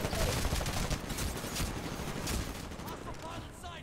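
Longbow DMR marksman rifle shots in Titanfall, set amid a dense wash of battle noise with repeated sharp cracks, thinning out toward the end while a voice talks over it.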